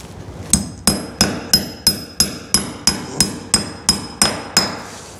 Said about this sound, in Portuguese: a gente encaixa ele e bate com o martelo e arma